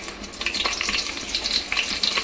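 Garlic dropped into hot oil for tempering crackles and sizzles loudly up close, a dense, continuous spitting fry with small popping bursts throughout and no talking.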